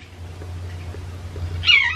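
A pet cat gives a single short, clear meow near the end, over a low steady indoor hum.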